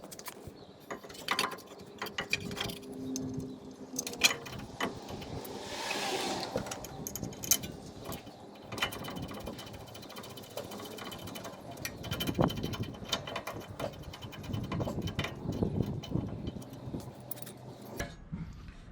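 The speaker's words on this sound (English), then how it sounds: "So now we're going to put the caliper on" Front brake caliper being fitted on a 2010 Toyota Tacoma, with irregular metallic clinks, scrapes and rattles of parts and tools, close and moderately loud, with a louder cluster of clunks near the middle and more handling toward the end.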